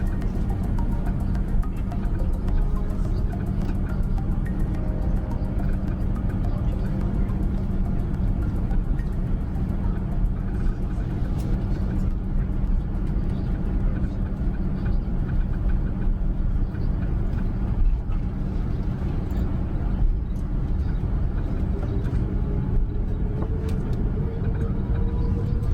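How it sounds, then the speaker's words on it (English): Four engines of an Air France Airbus A380 ramp up for takeoff on a runway at Paris-CDG, a steady loud broadband roar with a rising whine that lasts throughout, with no talk over it. "As the four massive engines of our Airbus A380 ramp up"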